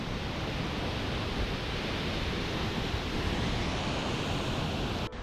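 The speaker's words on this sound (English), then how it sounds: "Only minutes in, we find our first of many waterfalls on this self-guided tour." Sumidero Falls in the Chiapas jungle of Mexico roaring as a steady, loud, broadband rush of falling water, continuous and close, with no voices.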